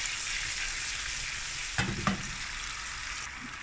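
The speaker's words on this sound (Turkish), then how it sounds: "1-2 dakika şöyle sarımsaklar kokusunu verinceye kadar tavada tutacağım." Garlic and tomato fry in a pan as part of Turkish home cooking, giving a steady, close sizzle throughout, with two sharp stirring clacks near the middle.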